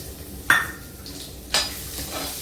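Onions hit hot oil with a bay leaf in a pan, giving two sharp sizzling bursts and stirring scrapes over a soft, steady frying hiss, close and moderately quiet.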